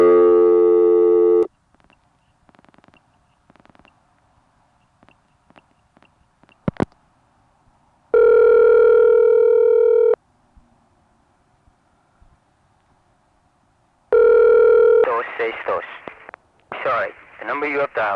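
Telephone call-progress tones on a 1975 New York line while dialing a Second Avenue fire code: steady tone bursts separated by quiet gaps and faint clicks, then a recorded voice speaking over tones near the end.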